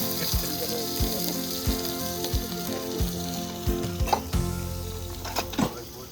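Eggplant and potatoes fry in a pan at a campsite in Van Buren State Park, Michigan, with a continuous close sizzle broken by repeated scraping and stirring strokes of a utensil against the pan.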